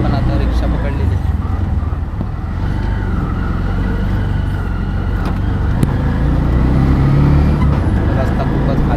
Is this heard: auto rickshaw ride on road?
yes